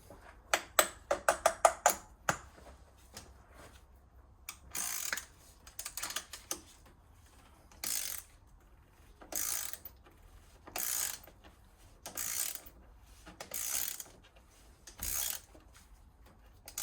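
A ratchet wrench works on the oil filter of a 2004 Mercedes W209 CLK V6, with a quick run of sharp clicks followed by repeated bursts of ratcheting separated by short pauses, close and clear.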